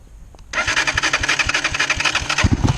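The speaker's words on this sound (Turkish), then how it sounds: "Şu an motorumuz çalıştı." A manual-gear beginner motorcycle engine fires up after a short quiet lead-in, then settles into a loud, close, steady idle with regular rhythmic pulses and a brief throttle blip near the end.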